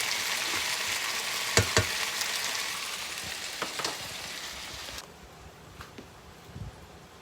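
Mac and cheese balls frying in shallow oil in a non-stick pan give a steady, close sizzle with occasional crackles and stirring clicks, easing slightly quieter toward the end.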